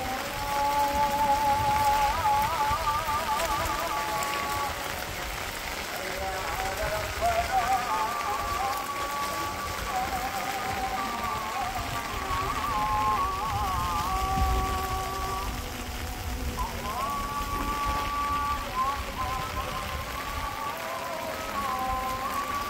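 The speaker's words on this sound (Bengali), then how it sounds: "বৃষ্টি মোটামুটি কমে যাইব" Heavy monsoon rain falls steadily in a village, a dense continuous hiss of drops on surfaces, with people talking faintly underneath.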